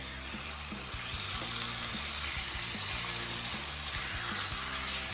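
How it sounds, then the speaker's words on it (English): Steady, continuous sizzling of chicken stir-frying in a hot wok over medium-high heat, loud and close, with a low rhythmic clatter underneath and no voices. "we're going to add the chicken into the wok"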